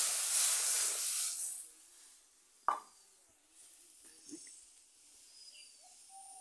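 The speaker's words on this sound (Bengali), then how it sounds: "দুধ জাল হচ্ছে, আরও জাল হয়ে গাঢ় হবে" Milk reducing in a pan for chire payesh, a flattened-rice pudding, with a steamy hiss at first, then a single sharp plop and a few soft bubbling pops over a quiet background.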